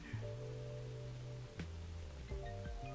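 Soft steady rain from the survival game Don't Starve hisses quietly in the background, with faint game tones and short musical notes drifting over it.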